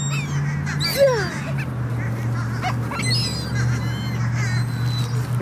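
Birds honk loudly and close by as they are fed, giving several sharp goose-like calls over a steady low hum and outdoor background noise.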